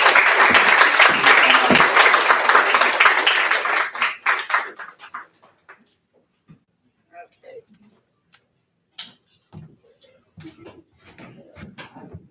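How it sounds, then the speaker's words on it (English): Audience applause at a poetry night in a pub-style venue: dense, loud clapping fills the first four seconds, then thins to a few scattered claps, with a voice speaking over the fading room. "Let's get another round of applause for Sarah, please."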